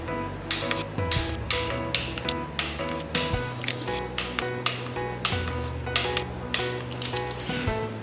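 A torque wrench final-tightening V8 intake manifold bolts, giving sharp ratcheting clicks in quick bursts, close and distinct, with metallic clatter between pulls and no talking.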